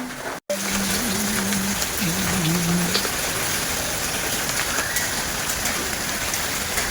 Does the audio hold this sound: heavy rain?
yes